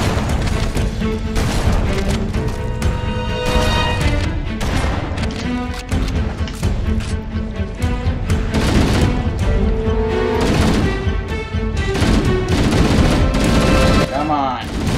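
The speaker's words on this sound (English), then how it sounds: "They're using guns now." Enemies open fire in Halo: Combat Evolved, with dense rapid gunfire and machine-gun bursts layered with booms and loud crashes nearby, and a voice talking intermittently over the shooting.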